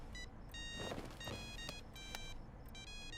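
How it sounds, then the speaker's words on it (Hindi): A phone rings with bright, repeating electronic tones in several short bursts, over a low background rumble. "गीता अभी मुझे क्यों फोन कर रही है?"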